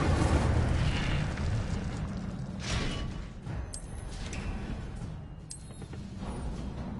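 A fire spell cast in a Hogwarts video game, a broad roaring burst of flame with whooshing, explosive rumble that swells and fades over several seconds, loud and close, with faint sparkly effects on top.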